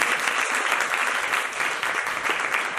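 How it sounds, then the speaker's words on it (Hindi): A hall audience at a student union oath ceremony claps loudly and continuously, a dense, even wash of applause with no pauses. "तो आप जोरदार तालियां अपने लिए भी बजा लीजिए।"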